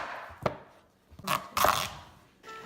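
Several sharp knife chops cut a garden pumpkin into smaller pieces on a board, separate irregular strikes with short pauses between them, close and fairly quiet.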